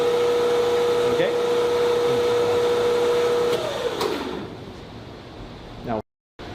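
A split phase electric motor hums steadily at full load, drawing about 4.6 amps. The drone is loud and continuous, then it fades and cuts out near the end.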